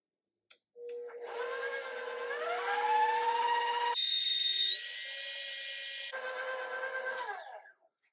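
An electric mixer creams butter for an eggnog pound cake with a steady, close whirring hum whose pitch rises and shifts as the speed changes. The whirring runs for about seven seconds and then stops.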